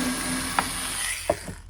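SKIL 4V Pivot Grip rechargeable cordless screwdriver backing a screw out, a steady close motor whine with a couple of small clicks, winding down at the end.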